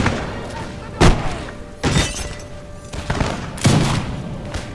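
Musket volleys from a Napoleon: Total War battle, with several loud, crackling bursts of massed gunfire spaced about a second apart against a steady battlefield din, and speech mixed in.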